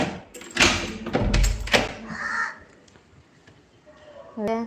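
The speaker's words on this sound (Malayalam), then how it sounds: "എനിക്കിവിടെ ഒരു കാക്കുണ്ട് ഞാൻ വിളിച്ചാൽ വരുന്ന കാക്കനെ കാണിച്ചുതരാം" A crow caws several times in quick succession nearby, harsh calls standing out over a quiet room, with a soft knock and a faint voice later.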